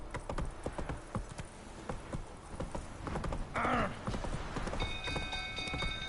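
Roach the horse gallops in The Witcher 3, her hooves drumming in a steady, fairly close rhythm over a busy game backdrop, with one short whinny partway through and no talking.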